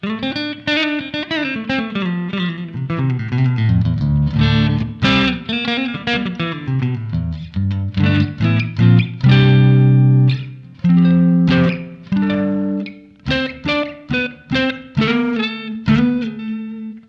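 Clean electric guitar, a Glarry Burning Fire with low-output pickups, plays a melodic run of plucked notes and chords, bright and undistorted, with no one speaking.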